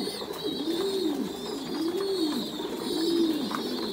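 Pigeons on a Thai meat-pigeon farm coo softly in three evenly spaced, rounded phrases about a second apart, with a faint high background hum throughout.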